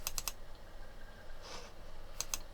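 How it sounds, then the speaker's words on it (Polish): Computer mouse clicks while opening an HTML file icon, a quick triple burst of sharp clicks at the start and a paired click near the end, crisp and close against quiet room tone. "wystarczy kliknąć dwa razy na tą ikonę"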